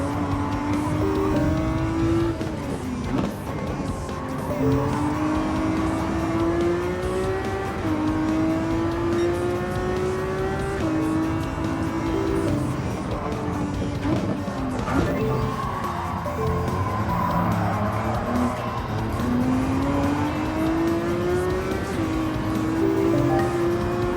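Ferrari race cars in the Gran Turismo 7 driving game, engines droning and revving steadily throughout with rising and falling pitch as cars pass and shift gears, plus tire noise, loud and continuous with occasional talk over it.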